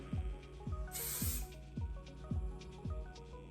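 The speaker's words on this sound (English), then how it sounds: "This is where a good strong hold spray comes in nicely." A single burst of strong-hold hairspray hisses for about half a second while a bun is styled, over a steady rhythmic thumping beat in the background.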